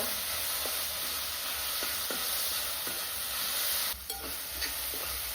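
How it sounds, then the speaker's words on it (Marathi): Tomatoes sizzle in oil over sautéed onion and garlic as they are stirred for dal tadka. A steady, close frying hiss runs throughout with soft scraping strokes, and it briefly dips near the end. "टोमॅटो तेलामध्ये मस्त असा परतून घ्यायचा आहे मऊ होईपर्यंत"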